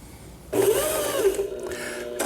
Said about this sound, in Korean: 각종 바느질 패턴, 박음질을 해보는 거죠